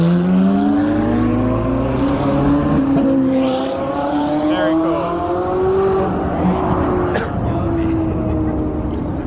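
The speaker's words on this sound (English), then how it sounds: "That's such a treat to see all those Lambos and Ferraris just launch off like that." Lamborghini and Ferrari supercars launch away together, their engines revving hard with rising, overlapping tones that stay loud and close before easing off, while a person talks over the roar.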